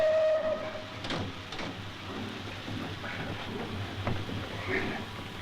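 Steam train halting at the Austro-Hungarian border, a high steam whistle at the start followed by rumbling carriages and clanks, with voices present.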